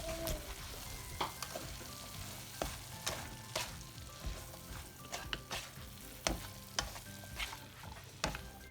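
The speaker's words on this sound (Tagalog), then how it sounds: "haluin lang natin maigi ang ating gulay" Vegetables for spring rolls, including carrots in sesame oil, are stirred in a pan. Soft frying hiss is punctuated by regular scraping and clacking strokes of the utensil, and no one speaks.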